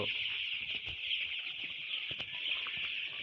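Chickens cluck steadily over a constant bright hiss, with scattered short calls from a flock nearby and no talking.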